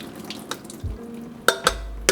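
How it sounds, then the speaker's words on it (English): Excess water being drained from a pot of cooked food in a home kitchen while making vegan yellow curry with eggplant: brief splashes and a trickle, with a few sharp clanks of the pot near the end. "make sure you get out all the excess water"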